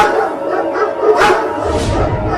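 Two cartoon dogs bark and yip loudly and close up in a short, agitated burst that overlaps itself.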